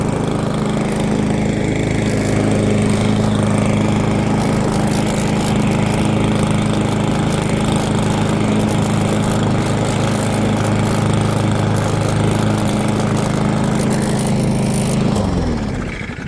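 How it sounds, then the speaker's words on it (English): An MTD Yard Machines push lawn mower runs steadily at close range, a loud continuous engine drone that holds for about fifteen seconds and then cuts off abruptly near the end. "Just a basic push mower."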